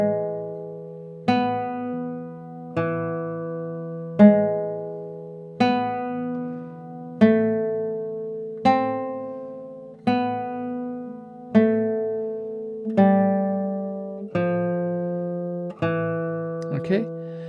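Malagueña on Spanish guitar, played slowly: about a dozen separate plucked notes, each ringing and fading before the next, close and clear with no talking.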